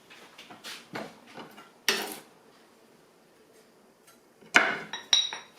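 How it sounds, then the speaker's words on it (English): Green garlic being pounded in a mortar and pestle, a series of sharp irregular knocks and clinks separated by quiet gaps, close and fairly soft. "what I can do is pound it in a mortar and pestle"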